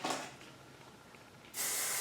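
Hairspray is sprayed onto curled competition hair in two short hissing bursts, one brief at the start and a longer one at the end, close and fairly quiet.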